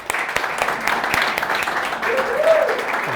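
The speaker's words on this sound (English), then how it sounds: "Please give a big round of applause to the speaker from tonight" A conference audience claps for the speaker after a programming talk, a steady round of applause throughout with a voice briefly audible underneath.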